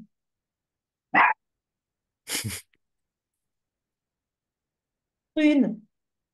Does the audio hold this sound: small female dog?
yes